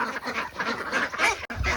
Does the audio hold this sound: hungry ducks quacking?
yes